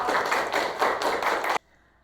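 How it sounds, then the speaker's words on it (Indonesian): A primary school class claps hands together, a rhythmic burst of about seven pulsing beats that is close and fairly loud, then stops abruptly into near silence. "tepuk tangan."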